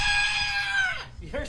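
A pet bird squawks loudly in a home, a long sustained cry with a falling pitch, then shorter calls at the end, under faint background voices.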